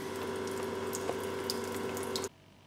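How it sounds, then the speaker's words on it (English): Water rushes steadily through a car engine's cooling system during a coolant flush, a close, even hiss that runs for about two seconds and then cuts off abruptly. "I'll be doing more flushing now."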